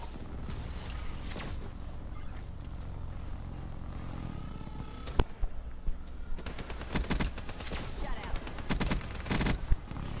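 A Man O' War rifle fires during Call of Duty Black Ops 3 multiplayer on PS4, with repeated gunfire bursts, the densest stretch in the second half, mixed with other game noise and someone talking over it.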